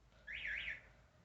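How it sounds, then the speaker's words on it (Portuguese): A neighbour's house alarm sounds faintly from a distance as a short warbling electronic tone of about half a second, rising and falling twice, over quiet room noise. "a minha vizinha tem alarme e toca o dia inteiro"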